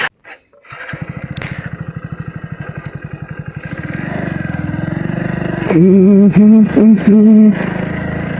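A Hero Splendor motorcycle climbs a rough hill road, its single-cylinder engine thudding in a fast steady pulse close to the microphone, then revving harder with a rising drone toward the end.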